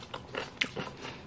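Pickled Jerusalem artichoke in soy sauce brine is bitten into, giving a short crisp crunch followed by a few soft chewing sounds, close and fairly quiet.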